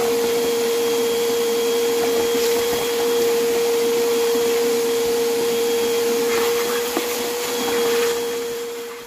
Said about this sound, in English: so let's get the vacuum in here.